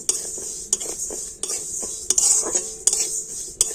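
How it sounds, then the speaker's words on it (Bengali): Mung dal being dry-roasted and stirred in a karahi, with a metal spoon scraping and clinking against the pan in repeated sharp strokes over a faint, steady hiss. "ওই মুগ ডালটা কড়াতে দিয়ে দিচ্ছি আর এই ডালটাকে এখন একটু ভেজে নেব"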